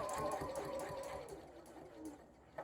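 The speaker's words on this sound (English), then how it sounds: "using a shorter stitch length, backstitching, and sewing up to this first mark" A sewing machine stitching a raccoon glasses case with a short stitch length, a faint, continuous mechanical whir that slows slightly toward the end, heard close and alone.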